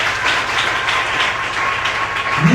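A church congregation applauding steadily, a dense sustained wash of clapping, loud and close, with no talk over it.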